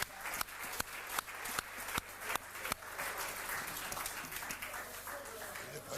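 A studio television audience bursts into applause for a guest, dense clapping with a few sharp individual claps standing out over a general murmur of voices.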